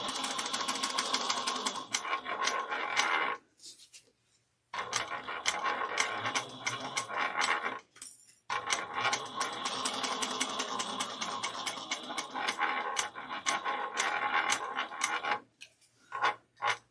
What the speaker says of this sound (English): I'm going to top stitch this at 1/8 inch